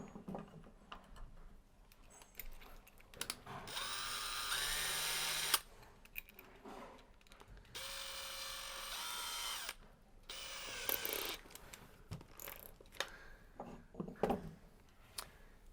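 A power driver with a Pozidriv bit works on an isolator valve in several short whirring bursts, fairly close, with clicks and handling noises between runs and no talk.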